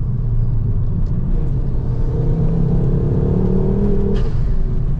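A Ford Focus RS engine drones with a deep, close rumble from inside the moving car, its pitch rising steadily as it revs under acceleration.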